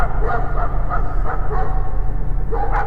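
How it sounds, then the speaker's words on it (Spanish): A dog barks repeatedly in quick, steady yips and woofs, close and fairly loud over a constant low hum. "El lamento fue de inmediato acompañado por los ladridos de los perros"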